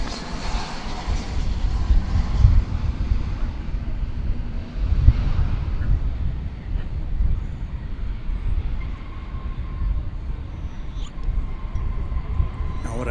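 An airliner arriving on a flight from Los Angeles at DFW Airport gives a steady, fairly loud low engine rumble with wind buffeting, holding across the whole stretch and peaking briefly midway.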